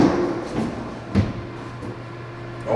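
A faulty door in a bank-owned house being opened and closed, giving a few soft clunks and knocks against a quiet indoor hum with no talking.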